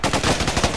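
Rapid gunfire in the video game Raven Squad, a loud, dense burst of quick shots in a tight rhythm lasting under a second.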